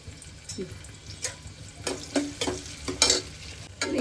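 Sliced onion fries in heated oil for a hotel-style potato and pea kurma, with a low sizzle under irregular scraping stirs of a spoon against the pan.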